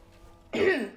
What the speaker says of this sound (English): I just cough sometimes